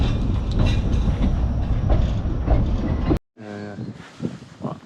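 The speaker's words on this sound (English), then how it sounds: "The train is called the Green Dragon." A Green Dragon train rumbles past loudly in the open countryside of Cumbria with steady rail noise, then cuts off abruptly before voices talk nearby.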